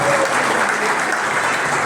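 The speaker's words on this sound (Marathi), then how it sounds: "सर्वच उपस्थितांच्या वतीने ताई आपल्या ठिकाणी जोरदार टाळ्या स्वागत करतो" Loud, sustained applause from an audience at a BJP candidate's public gathering in Parner, Ahilyanagar, welcoming a guest; the clapping is steady and even throughout, a thick wash of many hands.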